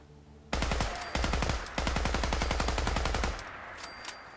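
A modded rifle fires explosive rounds in Fallout 4. The weapon has a shortened, AK-74-length build and large Bakelite magazines. It sounds as loud, rapid automatic bursts of gunfire with short pauses between strings of shots.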